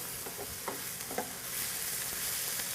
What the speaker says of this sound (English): we just want to lightly saute the garlic along with our thinly sliced green onions